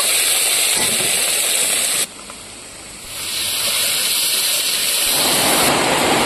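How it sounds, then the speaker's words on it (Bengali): Heavy rain pours down in an outdoor village setting as a steady, loud hissing roar that fills the whole stretch, dipping briefly then swelling back to full strength, with no voices. "এত জোরে বৃষ্টি চলে এসছে"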